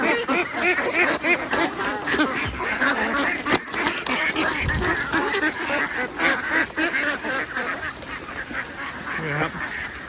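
A flock of ducks quacks loudly and continuously at close range on a Thai farm, overlapping honking calls packed densely together, with someone talking at times underneath.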